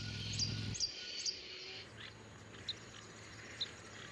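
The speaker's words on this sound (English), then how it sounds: "Some males like to announce their presence with a song, like the insistent chirping of this Ecuadorian long-billed hermit." An Ecuadorian long-billed hermit hummingbird gives short, high, insistent chirps, about five spaced notes across a few seconds, faint against a quiet forest background with insects.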